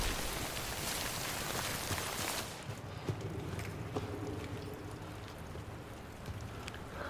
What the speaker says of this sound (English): We wait out the rain over there.